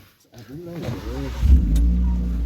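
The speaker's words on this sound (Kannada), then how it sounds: "ಸೌಂಡ್ ನೋಡಿ ಗಾಡಿ ಸೌಂಡ್ ನೋಡಿ ಗಾಡಿ ಸೌಂಡು" A car engine revs, starting as a deep rumble that swells up after a short voice and then holds as a steady, fairly loud drone to the end.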